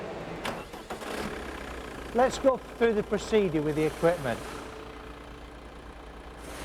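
A diesel vehicle engine turns over and settles into a low, steady idle, set up for an exhaust emission test, while someone talks over the running engine.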